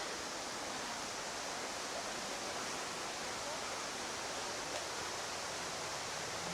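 Running water pours steadily inside an indoor rainforest, a continuous even rushing hiss with no pauses or distinct splashes.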